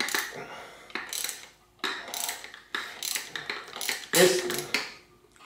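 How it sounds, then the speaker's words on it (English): Ratchet wrench loosening a tight bolt deep inside a RockShox Quadra 21R suspension fork, with short bursts of close clicking strokes separated by pauses. "I can use my ratchet wrench here to loosen this thing down in here"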